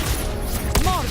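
A single sharp gunshot burst from the video game Wuthering Waves cracks out once near the end, over a continuous game soundscape.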